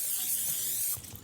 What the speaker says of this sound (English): I'm gonna use spray. Cooking spray, not hairspray.